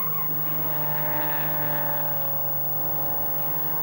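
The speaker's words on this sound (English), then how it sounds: "Even practice can be a hairy experience as competitors try to set a fast lap to get a good grid position." Saloon race cars lapping Mallory Park in practice, a steady engine drone with strong harmonic tones holding fairly level throughout, passing at moderate distance without talk.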